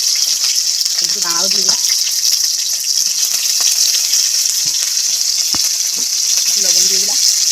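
Cut crab pieces dropped into hot oil set off a steady, loud sizzle and frying hiss that runs throughout, with spatula stirring and short spoken remarks over it.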